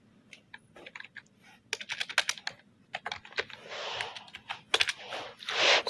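Rapid keystrokes on a computer keyboard while PHP string-function code is typed, coming in uneven bursts of close, crisp clicks with short pauses, building into a denser clatter near the end.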